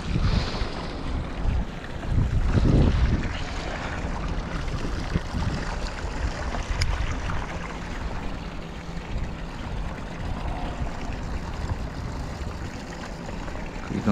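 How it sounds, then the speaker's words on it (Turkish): Strong wind buffeting the microphone in a steady roar while fishing at sea, with a heavy gust early on. "anda rüzgar var"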